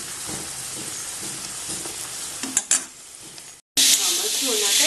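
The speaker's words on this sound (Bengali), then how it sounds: "ওর জন্য এই যে কটা লাল লাল করে ভেজে নিচ্ছি।" Luchi deep-frying in hot oil until reddish, a dense constant bubbling hiss with a few clinks of a utensil, a brief cut to silence, then the frying resumes just as loud.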